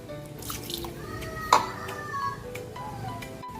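A little water pours into a cooking pot of vinegar-and-pepper seasoned paksiw, a soft liquid splash with one brief sharp knock midway, over a steady low kitchen hum.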